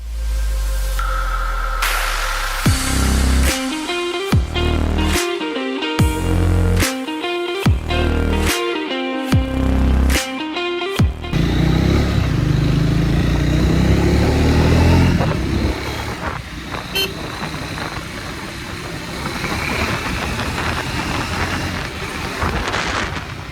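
Motorcycle ride comparing a Triumph Speed T4 and Scrambler 400X: a loud engine revs in stepped, rising bursts with gear changes over the first ten seconds, then settles into a steady cruising drone mixed with heavy wind rush.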